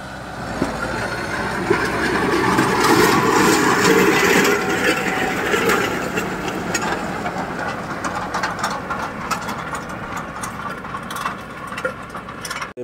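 A Kubota 5502 tractor pulls an 18-tine harrow in 4x4 drive at about 2000 RPM, its diesel engine giving a continuous loud rumbling drone that swells for a few seconds and then holds steady with rattling clatter.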